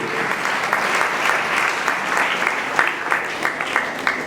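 Loud, sustained audience applause at the inauguration of a yoga foundation in Badlapur, a thick wash of many hands with a few sharper claps popping out, continuing evenly throughout.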